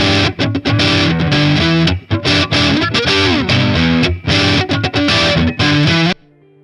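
Electric guitar played through a BOSS DS-1 distortion pedal, loud and gritty with sustained chords and note bends, driven continuously before cutting off abruptly near the end, leaving a faint low hum.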